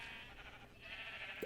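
Sheep bleating in the Minecraft video game, a steady, fairly loud bleat running through the short stretch without any talk over it.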